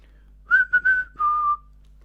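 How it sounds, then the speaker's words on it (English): A Little Live Pets My Really Real Bird toy answering a whistled tune, a short clear sequence of bright chirping whistle notes, three quick rising pips then one longer held tone, close and alone in a quiet room. "So it actually does a proper chirp back to you in the same tune"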